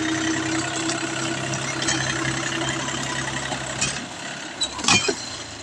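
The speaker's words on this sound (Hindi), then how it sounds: "ये देखो महिंद्रा V275 DL, मजा उतरेगा ये।" A Mahindra 275 DI tractor engine runs steadily at a low idle, a constant rumble close to the recorder, with a few brief knocks and rattles near the end.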